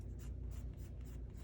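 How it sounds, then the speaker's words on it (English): A pencil tip draws eyelashes on paper in quick, soft, rhythmic scratching strokes. The sound is close and steady, with no talking. "now for the eyelashes, I really like using the tip of my pencil, and I'm going to darken them up just a little bit."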